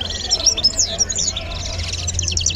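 Caged canaries and goldfinches at the Casablanca bird market give rapid, bright chirps and trills close by, the bursts running one into the next, over a low steady hum.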